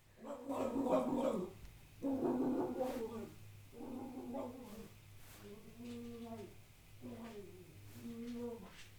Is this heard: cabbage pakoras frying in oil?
no